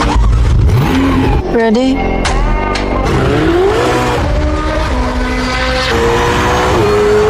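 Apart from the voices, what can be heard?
Ferrari twin-turbo 3.9 liter V8 revving and accelerating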